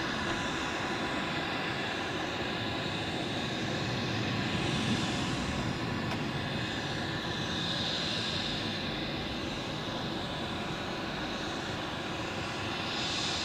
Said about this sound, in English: The next heavies departing, which I'm expecting, is the Turkish Airlines A330, which is now in the middle of the screen